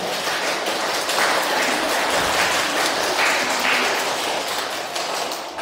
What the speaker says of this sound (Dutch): mogen zij ook wel een groot applaus hebben